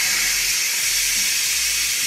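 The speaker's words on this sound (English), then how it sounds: "we are just going to release the pressure. So we're just gonna move over to the valve, and then we are just going to flick that over to vent." Steam hisses steadily from the pressure release valve of a Ninja Foodi multicooker as it is flicked to vent after cooking lamb pilau, a loud continuous rushing hiss that holds constant throughout with a faint low hum underneath.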